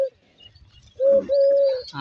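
Domestic pigeons in a loft coo nearby: a short coo at the start, a quiet pause, then a louder sustained throaty coo in two parts, with faint chirps around it.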